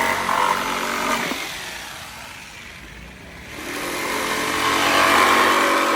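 A drill bores holes into the storage compartment of a Yamaha NMAX version 2 motorcycle, a steady loud whir that fades to a quieter lull midway before rising again at full strength.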